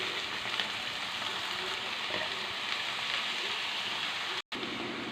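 Spinach frying in oil in a pan for a palak onion curry, giving a steady, moderately loud sizzle and crackle throughout with a brief gap near the end.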